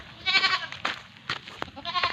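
Goats on a family farm bleat in a quick series of short, wavering cries, close to the listener and fairly loud, with brief pauses between calls and no talking.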